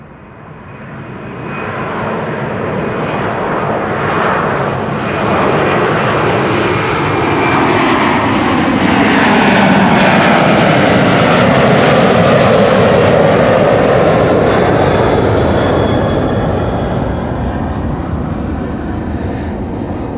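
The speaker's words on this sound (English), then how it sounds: "Landing gears on A330s, tediously slow." An Airbus A330 airliner departs Amsterdam Schiphol Airport, its engine roar swelling to a loud, broad sustained rush at mid-distance and then easing slightly as it passes, with no voices.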